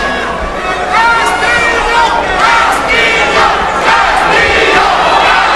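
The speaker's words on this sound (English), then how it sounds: "Fans chanting for Castillo now." Boxing crowd at a world lightweight title fight chanting loudly for Castillo, a rhythmic mass of voices filling the arena, with a commentator talking over it.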